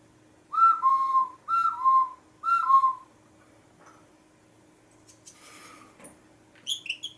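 Three descending whistled phrases imitate birds singing in a garden during a children's music workshop. The whistles are clear and close, followed by faint rustling and a few small high chirps.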